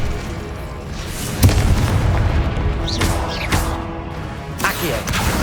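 Incendio fire spell cast in Hogwarts Legacy on PS5 during combat, with booming bursts and crackling impacts over a dense, loud game soundscape of music and effects.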